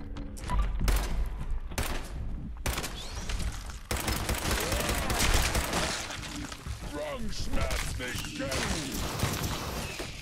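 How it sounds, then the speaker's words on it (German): Gunfire in the video game Fallout 4 shooting over a tank, rapid bursts of shots and thuds in a busy battle mix, with someone talking in German over it. "Jetzt über den Panzer reinschießen."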